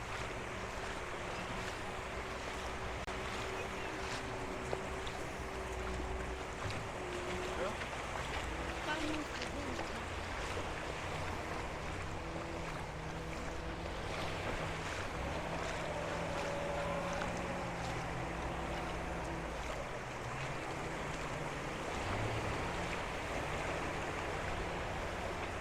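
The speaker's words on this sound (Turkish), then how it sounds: "Bir süre sonra çünkü insanı rahatsız ediyor dalga sesi." Sea waves wash continuously along the shore at Koh Larn island near Pattaya, Thailand, a steady broadband rush with boat engine hum and faint voices mixed in the background.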